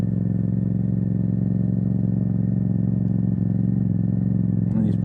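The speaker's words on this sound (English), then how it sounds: "this loud ass motorcycle is just kind of tearing up my turf" Motorcycle engine droning loudly and steadily on a road, a constant low rumble with a sustained mid whine, holding even volume with a brief clatter near the end.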